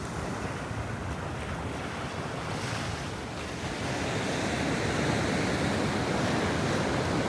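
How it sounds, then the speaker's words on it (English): Ocean waves and surf roll in steadily at Lands End on the San Francisco coast, a continuous loud wash with gusts of wind buffeting the microphone, swelling slightly louder toward the end, with no voices. "Don't you guys like the sound of the ocean?"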